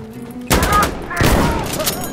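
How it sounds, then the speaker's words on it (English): Two loud, close shotgun blasts in Insurgency Sandstorm, the first sharp report followed by a second shot about three-quarters of a second later, each trailing into echoing decay. "It's a double kill with a shotgun."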